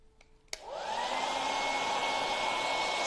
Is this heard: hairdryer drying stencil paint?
yes